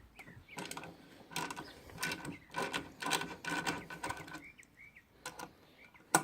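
A bolt on a GY6 scooter body panel is loosened by hand with a ratchet wrench, giving a close series of quick clicking ratchet strokes in uneven bursts, with faint whistling in the background.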